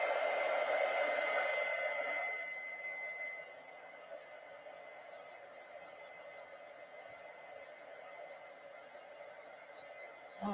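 A hair dryer blows on small craft pieces. It makes a steady, breathy roar that is loud at first, then drops to a softer, continuous hiss as it is pulled back or turned down.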